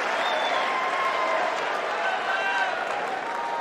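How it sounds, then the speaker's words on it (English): A large tennis crowd at Wimbledon applauds and cheers in a steady, dense roar, with voices calling out over the clapping. "I think he deserves a big round of applause after that"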